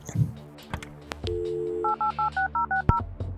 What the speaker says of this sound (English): Now, use the phone and call Clyde